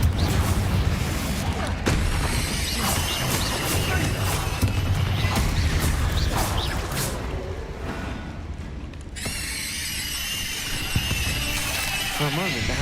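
A Confringo blasting spell explodes in the Hogwarts Legacy video game, a loud, dense roar of crashing and booming that fills the whole stretch with only a brief dip, mixed with game music and effects.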